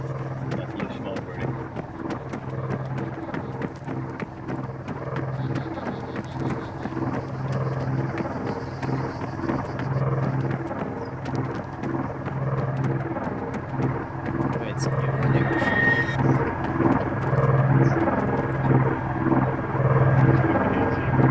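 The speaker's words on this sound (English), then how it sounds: "I know, we're getting a flyby." An aircraft flyby in the video game Arma 3, a continuous engine drone with a rhythmic rotor-like pulse that grows steadily louder, while voices talk intermittently over it.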